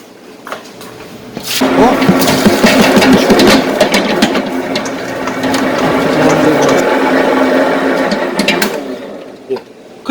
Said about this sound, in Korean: 반죽 한번 돌려보도록 하겠습니다